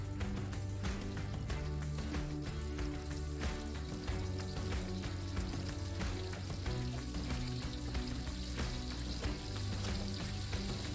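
Catfish frying in hot oil for pecel lele, a dense, steady crackling sizzle that runs unbroken and fairly loud, with no voices over it.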